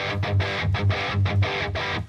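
Electric guitar through an amp simulator dialed for a metal tone without a boost, a distorted riff of tight palm-muted chugs in a choppy, repeating rhythm, loud and alone.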